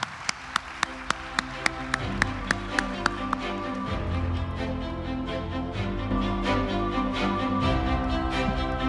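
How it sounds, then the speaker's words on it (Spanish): Audience applause at an award ceremony for the Ernesto McCausland Sojo journalism prize, opening with sharp evenly spaced beats over music, then turning into a steady wash of clapping from a hall crowd. "Un fuerte aplauso para Osvaldo Sampaio."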